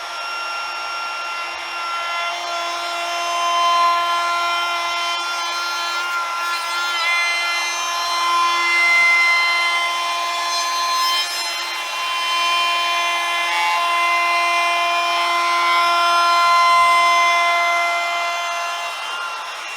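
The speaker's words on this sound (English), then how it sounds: "I won't chamfer those bits, they will be part of the glue join, but I will chamfer these bits" A power tool chamfers the edges of wooden chair parts for a Leopold chair, running as a steady, close, high-pitched whine with a slight rise and fall in load, and no talk.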